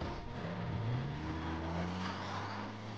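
Car engine revving in the video game Life is Strange Remastered, a steady low engine drone with rising tones, loud and continuous throughout with no talking.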